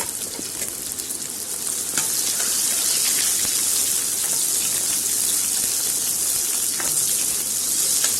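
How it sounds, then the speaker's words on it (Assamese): Onions frying in oil in a home kitchen, a steady loud sizzle with a faint hiss running throughout, a few soft clicks on top, no voices. "পিঁয়াজখিনি এতিয়া ৰঙচুৱা হোৱালৈকে ভাজি ল'ম।"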